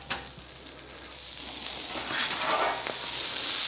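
Food sizzles in bacon grease on a Blackstone griddle, a bright, hissing fry that grows gradually louder and denser.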